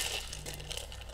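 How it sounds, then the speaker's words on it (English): An Aperol margarita is shaken briefly in a cocktail shaker, giving a quick run of rattling, crunching ice bursts close by, with no voices. "So, you want to shake that up a little bit, just to kind of break it up."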